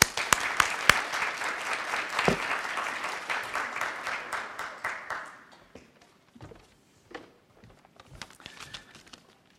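An audience claps to welcome a speaker at an introductory event, steady close applause for about five seconds that thins into scattered individual claps and fades out.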